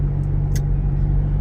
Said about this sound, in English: now we're back into the heavy traffic for all those northbound people